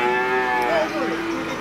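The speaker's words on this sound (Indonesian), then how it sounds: "ini adalah sapi-sapi yang dijual belikan, khususnya pedetan untuk sapi limusin dan simental." Limousin and Simmental calves bellow at a cattle market in Tuban, with one long, close, tonal moo that slides downward, over faint market background noise.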